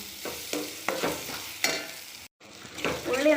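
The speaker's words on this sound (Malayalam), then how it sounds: "എന്നിട്ട് നല്ലപോലെ ഇളക്കി യോജിപ്പിക്കുക" Onions and tomatoes sizzle in a pan while being stirred, a continuous hiss punctuated by rhythmic scraping strokes of a spoon, loud and close, with one brief pause near the end.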